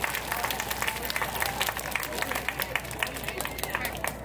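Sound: audience applause at a traditional music performance

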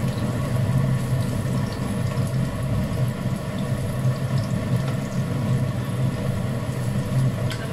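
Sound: garlic and chilies frying in a pan

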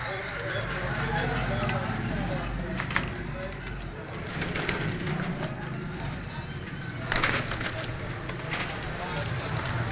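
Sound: pigeons cooing

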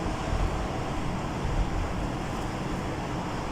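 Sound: wind blowing outdoors

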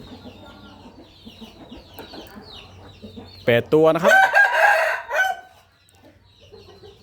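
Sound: young Burmese roosters clucking and crowing

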